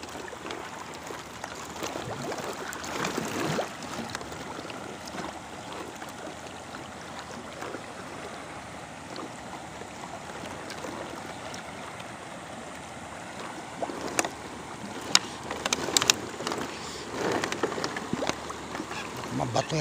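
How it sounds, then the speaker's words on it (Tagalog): River water laps and splashes against a small boat, a soft continuous wash with occasional louder slaps, while someone speaks now and then. "Ito po mga alon."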